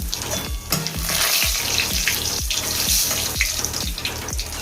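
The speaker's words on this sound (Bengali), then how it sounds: "এবার দিয়ে দিচ্ছে সাদা জিরে গোটা সাদা জিরে ফোড়ন" Whole cumin seeds and bay leaf tempering in hot oil, a loud dense crackling sizzle with repeated pops and spatters, close and continuous with no voices.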